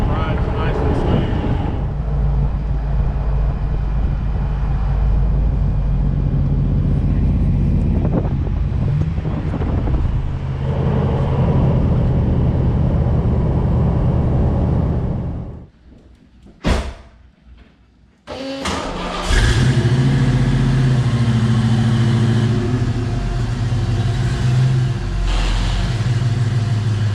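A lifted classic Scout with larger tires cruising on the road, steady engine and tire roar with heavy wind buffeting, a brief quieter gap, then the drive noise resumes.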